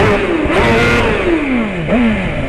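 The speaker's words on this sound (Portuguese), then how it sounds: "Coisa linda, hein, mano, esse corte de giro." A BMW S1000 motorcycle engine revs hard against its rev limiter, the whining engine note climbing and falling in sweeps, with a sharp cut and bounce near the end, loud and close.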